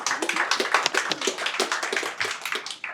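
A small audience at a cyber security hackathon tech session claps in a brisk, dense patter of individual handclaps, moderately close and steady for a few seconds.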